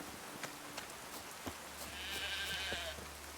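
A sheep bleats in the video game The Witcher 3, one wavering bleat heard faintly over low rustling ambience with a few soft taps.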